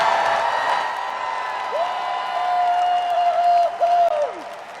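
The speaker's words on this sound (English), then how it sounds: "Everybody needs to cheer." A crowd at a university graduation ceremony claps and cheers in a steady, dense wash of applause, and a whoop rises above it near the end.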